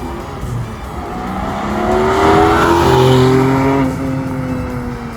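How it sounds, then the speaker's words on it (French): A Porsche 718 Cayman GT4 or Boxster Spyder with its exhaust valves open, running with the top down, gives a loud, racing-style engine note that rises in pitch as it revs, swells through the middle and then eases off. "en mode décapotable avec les valves ouvertes, cela devient magique puisque la voiture chante comme une voiture de course"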